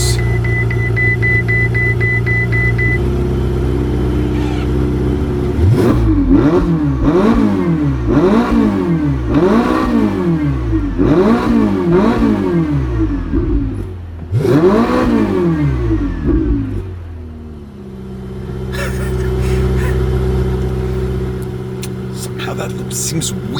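A Ferrari convertible engine is revved hard in a rapid series of about eight rising and falling bursts, loud and close, before settling back to idle, with voices around it.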